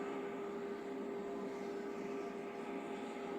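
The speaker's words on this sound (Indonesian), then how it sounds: "pesawat yang membawa rombongan Paus Fransiskus sudah tiba di Jakarta" An airplane carrying Pope Francis's entourage sits at the airport in Jakarta, giving off a steady, loud engine drone with a constant whine, with no voices over it.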